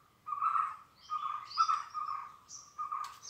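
Birds call among the huge centuries-old trees of a Konkan forest grove in Maharashtra, a series of fairly clear whistled and chirping phrases repeating several times at moderate distance, with no voices.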